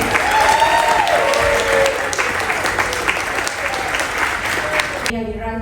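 Audience applause for the captain aboard the cruise ship Explora 2, sustained, full clapping from a large crowd that stops abruptly at the end, with talk audible beneath it.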